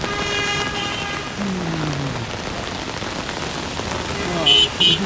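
Heavy rain pours down in a dense, steady hiss, with faint traffic and occasional higher tones in the background.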